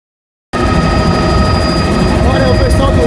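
A loud helicopter roars in abruptly after a moment of silence at a Jeep festival, its rotor thump and engine whine steady and close throughout.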